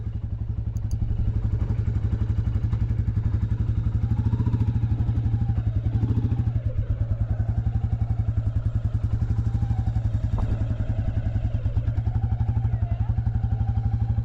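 A Royal Enfield Classic 350 motorcycle thumps along at speed with a steady, deep, rapid single-cylinder beat up close, wind rushing over it, and a voice cutting in briefly.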